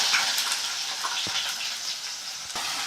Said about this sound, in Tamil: கடுகு நல்லாவே பொரியுது பாருங்கள், படப்படன்னு.